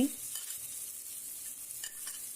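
Chopped garlic, ginger and onion frying with cumin seeds in oil, a soft, steady sizzle close by with a few faint stirring scrapes and a light knock at the start.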